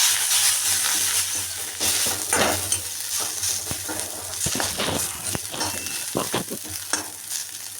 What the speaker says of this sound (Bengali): এবার নিম পাতাটা প্রথমে ভেজে নেব।